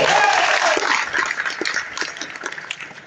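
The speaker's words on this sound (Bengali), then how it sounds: "জোরে একটা হাততালি চাই" A loud round of applause from an audience at a talk, dense at the start and gradually thinning and fading over a few seconds.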